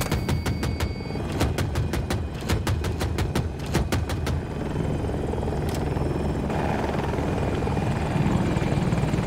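KA-520 Super Hokum attack helicopter in Battlefield 2042 roars steadily with a heavy rotor drone, cut through by a rapid burst of sharp gunfire in the first half.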